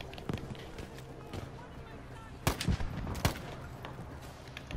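Assault rifle in Battlefield V firing single semi-automatic shots, a few sharp separate cracks spaced over a steady game background with footsteps and voices.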